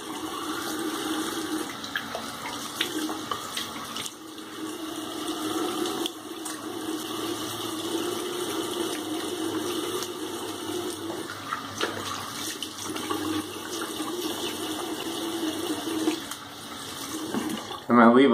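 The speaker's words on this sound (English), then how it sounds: "Let's do a quick light rinse." Tap water runs steadily for a light rinse during a wet shave, a continuous close splashing stream that lasts throughout with a few brief handling noises and a louder burst at the very end.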